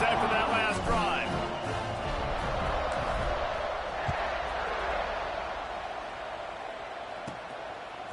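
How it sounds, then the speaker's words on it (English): Simulated stadium crowd noise from a Madden football video game swells as a loud, dense roar that slowly eases during a kickoff, with a commentator-style voice talking over it. "this crowd is feeling themselves after that last drive"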